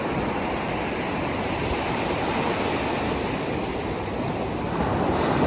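Sea waves wash steadily onto the shore, a loud, continuous roar of surf with wind, and no voices.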